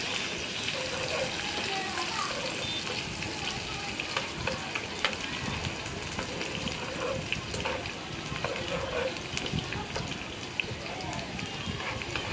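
Chopped onion and bay leaf frying in plenty of oil in a village kitchen for khichuri, a steady close crackling sizzle throughout with faint stirring scrapes, no talking over it.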